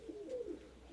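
A single low, throaty pigeon coo rolls out close by from birds kept in a Greek loft, brief and clear over faint ambient noise.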